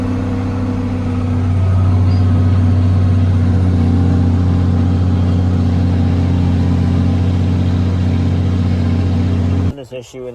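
A tractor engine runs steadily with the PTO engaged while cutting hay, the pitch rising slightly as it revs up toward 1900 rpm and then holding a loud, constant drone before it cuts off abruptly near the end.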